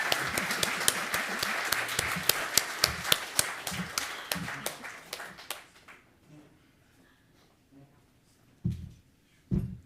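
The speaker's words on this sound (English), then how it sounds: "We can give him an applause till he comes up from the back of the room." Audience at an awards ceremony applauding a presenter walking up from the back of the room: brisk, crisp clapping for several seconds that thins out and fades to quiet, followed by a couple of low thumps.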